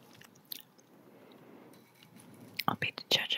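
A crunchy American protein snack being eaten close to the mic in binaural stereo, with a soft murmur first, then a string of sharp, loud crunching bites near the end.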